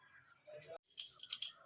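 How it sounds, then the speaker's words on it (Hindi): A small ritual hand bell rung during a Karva Chauth puja, giving bright metallic ringing tones in two quick bursts after a soft rustle, close and clear. "घंटी।"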